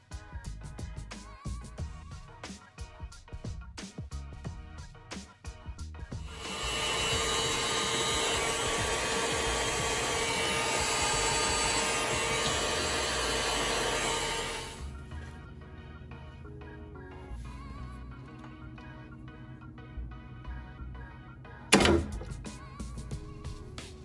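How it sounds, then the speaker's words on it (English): A heating tool blasts the slit rubber coating on a fuel line during a Honda Civic K24 swap fuel system install, giving a steady, loud blowing roar for about nine seconds between quieter stretches of workshop sound. "Use the tool a little bit to put a little slit in the rubber, heated it up, and the rubber came right off"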